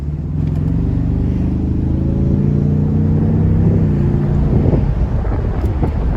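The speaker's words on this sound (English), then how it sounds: "And the exhaust note sounds beefy," A 2020 Ford Mustang convertible's turbocharged 2.3-litre engine revs up and settles in a deep, throaty drone, with wind buffeting the microphone and a brief rising rev near the end.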